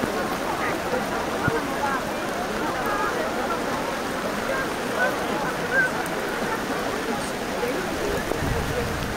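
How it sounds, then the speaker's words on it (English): Sudden heavy rain pours down at an outdoor evening program in Medjugorje, a loud, continuous close hiss of water on the ground, with a crowd's voices murmuring under it. "The people run as it's raining like crazy coming down."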